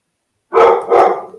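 Two deep, loud barks from a small dog come in quick succession, close and alone with no talking.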